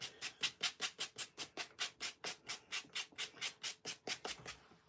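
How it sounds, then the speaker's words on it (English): Sanding a handmade Christmas gift lid by hand, about eighteen steady back-and-forth rasping strokes in an even rhythm, close and clear with no talking. "So I'm just sanding this like this."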